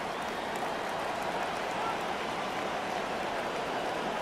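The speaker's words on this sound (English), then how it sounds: "The rain set to continue as we are underway in the second half." Steady, even rain hiss throughout a rainy American football video game broadcast featuring Buffalo, loud and continuous with no clear talk over it.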